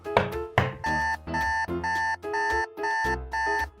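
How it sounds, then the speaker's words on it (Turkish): A shop security alarm blares in repeated pulsing tones, loud and close, following a couple of sharp knocks at the start, set off at a toy store exit by an unremoved bag tag. "sanırım çantanızdaki alarmı çıkarmadım"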